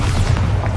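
A Bombarda spell blast from the video game Hogwarts Legacy lands as a short, loud, booming explosion with a heavy low thud, heard alone without voices.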